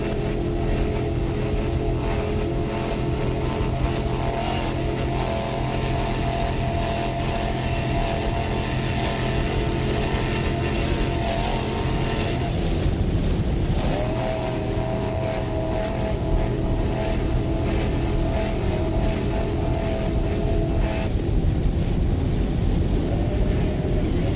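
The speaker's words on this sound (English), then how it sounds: "Nice throttling there by Mitch Miller." Offshore racing powerboats at the 2000 Islamorada Gold Cup, one of them Mercury-powered, run at high throttle with a constant loud, droning engine roar and a buzzing hum that shifts slightly in pitch.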